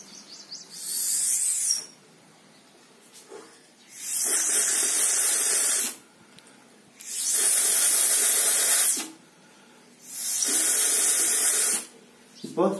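Fast air blown through a horizontal straw across a vertical straw dipped in water, producing a loud steady spraying hiss in four separate bursts of about two seconds each, with short pauses between them.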